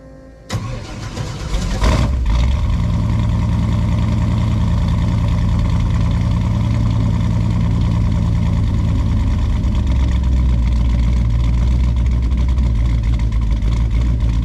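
A Chevrolet C10 truck fitted with EFI and a new exhaust cranks briefly and fires, then settles into a loud, steady, rumbling idle that runs unbroken for the rest of the clip, with no one talking.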